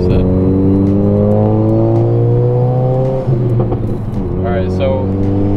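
A tuned Hyundai Elantra Sport making about 407 horsepower revs up close and loud, with a steady rising engine drone that drops and then climbs again with a raspy exhaust note.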